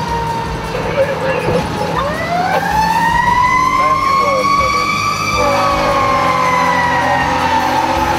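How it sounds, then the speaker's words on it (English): Fire Engine 9 pulls out of its station in Fresno for a backyard brush fire, its wailing siren rising and holding steady over engine rumble, loud and close. "Engine 9 is out the door."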